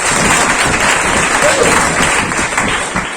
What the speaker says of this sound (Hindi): जोरदार तालियां बैंक मैनेजर के लिए